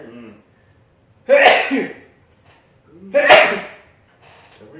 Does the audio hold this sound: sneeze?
yes